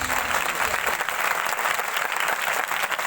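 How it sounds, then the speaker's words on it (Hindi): Loud applause from a church congregation during a sermon, dense and continuous clapping that fills the whole stretch without speech. "जिसको समझ लगी है वो जोरदार तालियां मार के"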